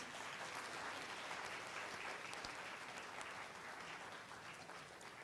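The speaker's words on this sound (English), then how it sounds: "let's give our newly invested member of the Girl Guide and Girl Scout movement a round of applause" Round of applause for a newly invested Girl Scouts of the Philippines member at a ceremony, a steady even wash of many hands clapping from a crowd, slightly distant and sustained throughout.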